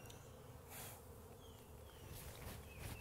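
Package honey bees pouring out into frames of a hive, a dense, continuous buzzing drone from many bees close by, with individual bees zipping past in brief louder swells; no one talks.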